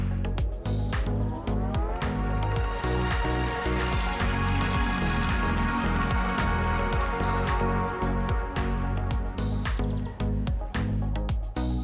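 The Fiat 500 Electric's pedestrian alert plays as a full, busy musical melody with rhythmic hits and sustained harmony. It is loud and continuous throughout, with no speech.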